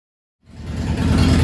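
A Harley-Davidson Springer motorcycle engine, freshly fitted with its exhaust system, fires up after a moment of silence and settles into a loud, deep, rumbling idle close by.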